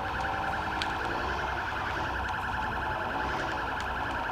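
Police sirens blare throughout a Sleeping Dogs video game chase, a steady loud repeating wail layered over continuous engine and traffic noise, with no voices.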